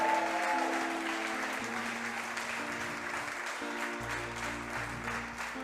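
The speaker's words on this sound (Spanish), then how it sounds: "dale más fuerte ese aplauso, dale un grito de júbilo" A church congregation claps in sustained applause through a service, a dense, steady wash of clapping from a crowd that continues evenly for several seconds while music plays underneath.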